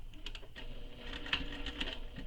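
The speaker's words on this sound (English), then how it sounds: "I'm going to stitch this all the way around, just on this outer edge, not the inner edge." A sewing machine stitching along the outer edge of a tote bag lining, running in short quiet bursts of rapid mechanical patter and clicks, close but faint, with no talk.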